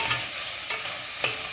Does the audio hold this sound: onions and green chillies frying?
yes